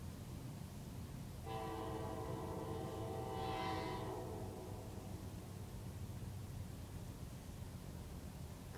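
A northbound coal train passes in Garden City, Georgia, its horn sounding a steady multi-tone blast for several seconds over a continuous low rumble of rolling railcars.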